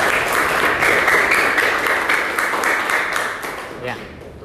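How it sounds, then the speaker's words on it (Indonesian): An audience claps for group 3 in a classroom-style gathering, with sustained, fairly loud applause that slowly tapers off toward the end. "Beri tepuk tangan untuk kelompok 3"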